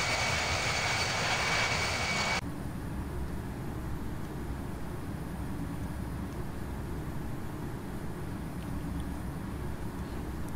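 An aircraft in the Infinite Flight flight simulator game flies with an F-14 alongside, giving a steady, loud engine drone throughout. A brighter, harsher roar with a high whine opens the sound, then drops after about two seconds to a darker, continuous rumble.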